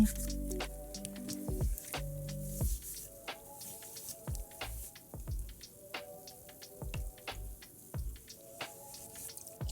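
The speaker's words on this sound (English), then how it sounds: "now into the hot water we will go" A vintage Integrity Toys doll's hair being washed in hot water, with wet squishing and dripping sounds in irregular bursts, close up and fairly quiet.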